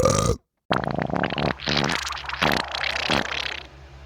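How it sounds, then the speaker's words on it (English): A cartoon Sugar Rush racer lets out a long, loud, gurgling burp in several rolling surges, close and alone after a brief silence. "I love your sour apple scented burp and it does not stink"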